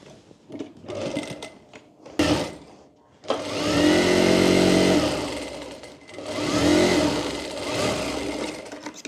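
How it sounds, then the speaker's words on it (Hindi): Sewing machine stitching a net baby frock, whirring in several bursts: brief stops and starts, then two long runs, close and fairly loud. "देख लीजिए इस तरह से हमें थोड़ी ज़्यादा सिलाई करनी होगी यहाँ पर।"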